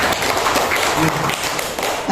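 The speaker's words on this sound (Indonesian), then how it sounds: "Bapak Ibu, coba kita tepuk tangan untuk kita semuanya dulu." An audience of teachers at a school workshop on positive culture applauds, a thick, continuous wash of clapping held at an even, loud level for a couple of seconds.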